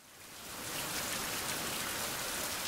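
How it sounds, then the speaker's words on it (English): Rain falls steadily in a survival video game, a dense hiss that swells over the first second and then holds even and loud, with no voices. "I was kind of hoping it would stop raining."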